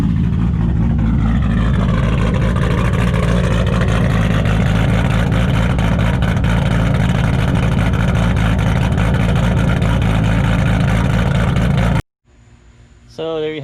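Toyota 2JZ-GTE engine running on E85 fuel idles steadily after warming up, a loud, constant low rumble with a raised exhaust drone, cut off near the end by a brief silence and then a louder burst.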